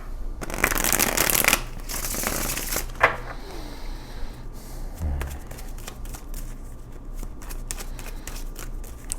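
Tarot cards are shuffled by hand in quick papery riffles and slaps, loud and close at first, then softer card handling and taps, with no talk.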